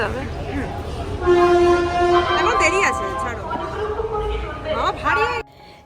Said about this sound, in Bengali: প্ল্যাটফর্ম দিয়ে থ্রু ট্রেন যাবে অনুগ্রহ করে সুরক্ষিত দূরত্ব বজায় রাখুন